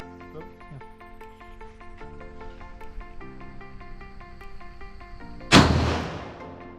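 A single loud gunshot cracks at a shooting range at the Cu Chi Tunnels, sharp and close, decaying quickly after a stretch of steady high tonal ringing and chirping.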